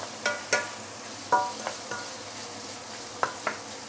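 Roast pork frying with garlic in a pan over medium-high heat, heard as a quiet bed of sizzle broken by several sharp scrapes and clinks of stirring spaced irregularly through the stretch, with no talking.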